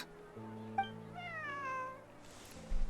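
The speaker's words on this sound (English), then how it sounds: "This is my friend's cat." A cat character in Genshin Impact meows in a rising, drawn-out call over soft game background music, with a brief chime just before and a faint rustle at the end.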